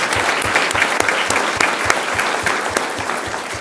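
Loud, dense round of applause from an audience at a school district governing board meeting honoring student athletes and their coach, sustained throughout with no talk.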